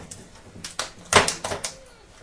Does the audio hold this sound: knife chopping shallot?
yes